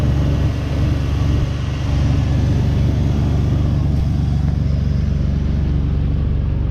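A truck engine runs steadily after repair, idling as a loud, continuous low rumble close by with no voices over it.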